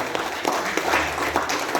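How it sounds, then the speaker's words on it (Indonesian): A room of seminar attendees gives a brief round of clapping, moderate and a little sparse, with faint murmuring underneath. "Tepuk tangan sekali lagi untuk kita semua."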